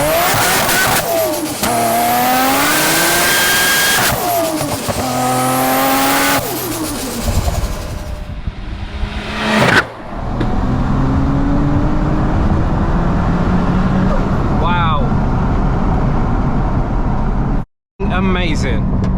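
A 700 bhp Nissan R33 GTR Skyline roars through repeated hard accelerations, loud rising and falling engine pitch from gear changes and revving, with brief tire noise, then dropping to a quieter drone with a short cut near the end.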